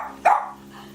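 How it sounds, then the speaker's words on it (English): A single sharp, high-pitched Boston Terrier puppy bark rings out close by, followed by a quiet low hum. "5-month-old Bella, a little barking Boston Terrier."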